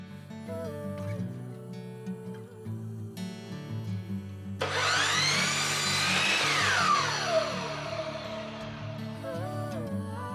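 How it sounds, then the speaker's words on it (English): A miter saw cuts a piece of wood to length for a custom name board, a single loud whining cut that starts abruptly and runs for several seconds over background music. "let's get the miter saw out and cut this to length"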